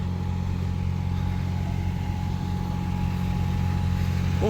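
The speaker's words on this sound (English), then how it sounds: "Bunch of cars still trying to get to that first lot for some reason." Several cars roll slowly toward a parking lot near the Hoover Dam, a steady low engine and road rumble at moderate distance with no voices.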